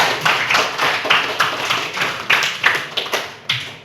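A classroom group claps its hands in a loose, uneven rhythm, the sharp slaps close and distinct, carrying on for several seconds without any talking over it.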